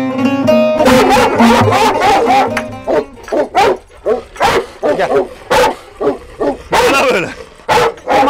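A Kangal dog barks loudly and close in a rapid series of deep, repeated bow-wows, with brief yips and whimpers between, while people talk nearby at first.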